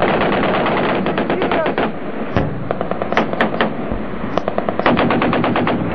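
Sustained machine gun fire during an intense firefight in Afghanistan, loud and close, with rapid continuous bursts and sharp separate cracks, while shouting voices come through the clamor.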